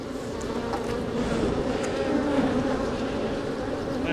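Honeybees buzz densely around an open hive, a continuous close, mid-loud droning hum with no talk over it.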